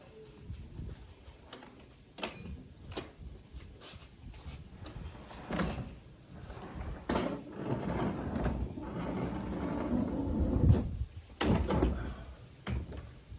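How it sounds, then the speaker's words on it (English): A long-stuck sliding door rolls along its track with a rumbling, grinding roll that builds and swells, broken by knocks and brief pauses, heard up close. "got the door rolling again, so I'm very happy about that. It's rolling good."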